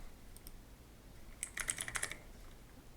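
Typing on a computer keyboard at a Windows PC, a short quick run of light key clicks, close and faint, with quiet room tone before and after.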